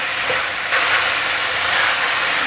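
Small green cucumbers stir-fried with a splash of soy sauce in a wok hiss and sizzle in a steady, dense wash, with faint scraping of the spatula as the pieces are tossed, close and without talk.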